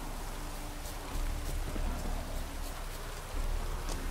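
Steady rain pours in the Witcher 3 game world, a dense hiss of drops hitting surfaces with denser bursts, continuous and fairly close, no voices over it.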